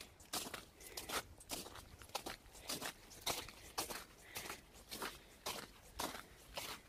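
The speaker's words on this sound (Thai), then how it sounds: "ใส่รองเท้าอย่างนี้นะนี่อันที่มีตะปูข้างล่าง" Footsteps crunch across wet, melting snow in shoes with spikes on the soles, a steady walking rhythm of sharp gritty steps close by with no talking.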